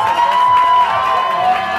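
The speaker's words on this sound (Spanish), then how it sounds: "que se oiga muy fuerte el aplauso para Yes" A studio audience at a children's singing contest cheers and applauds for a contestant, a short burst of crowd cheering and whoops with clapping, loud and close.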